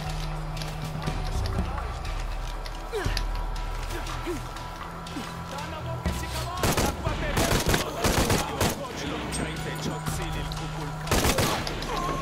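Sniper and rifle fire in Shadow of the Tomb Raider, sharp cracks and bursts over a steady game backdrop, clustered sharply in the second half, with someone talking over parts of it.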